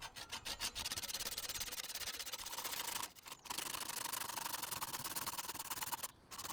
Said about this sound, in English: As I finish sawing each ring,